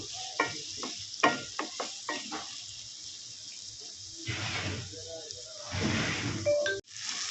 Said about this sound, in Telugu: నూనెలో మంచిగా ఉల్లిగడ్డ కూడా మంచిగా వేగాలి